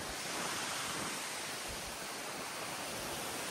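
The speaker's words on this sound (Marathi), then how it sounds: "एक नंबर वारा सुटला आहे." Steady, dense broadband rushing fills the whole stretch, a strong wind roaring continuously with no voices or pauses.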